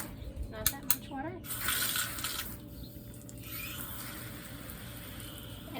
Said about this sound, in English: we just give them a little bit of water, not that much water.